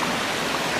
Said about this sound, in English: Guys, look at this waterfall, it's so pretty.